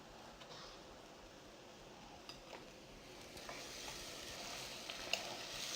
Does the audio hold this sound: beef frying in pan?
yes